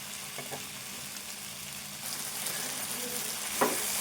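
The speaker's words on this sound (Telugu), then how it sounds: "బెండకాయ కూడా ఫ్రై కావాలి" Okra frying in a pan, a steady close sizzle that holds evenly throughout, with a couple of faint clinks and one louder scrape near the end.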